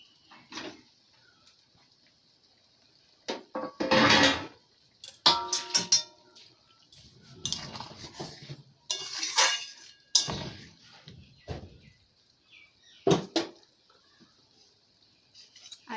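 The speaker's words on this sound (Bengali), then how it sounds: "এবার এর মধ্যে একে একে সমস্ত চিকেনগুলো দিয়ে দেবো।" Chicken pieces go one by one into simmering chilli chicken gravy in a pot, giving scattered clattering knocks and wet splashes separated by quiet stretches. No one speaks.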